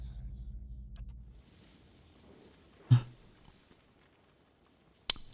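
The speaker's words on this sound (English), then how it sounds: "a grinding, clicking noise in the hall" A grinding, clicking mechanism in a hall inside a fantasy video game: a low rumble fades out, then a sharp clunk lands midway, a faint tick follows, and a crisp click closes the sequence.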